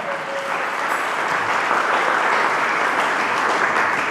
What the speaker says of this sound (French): Acclamons très fort le roi des rois